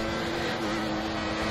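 A race car engine in a GP3 racing video game at Austin holds full revs, a steady loud droning whine with a constant pitch and no break.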